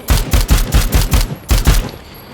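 Rapid gunfire from a gun in the Dead Rising 4 video game, played on Xbox One, rattles out as a loud burst of about eight close shots, a short gap, then two more.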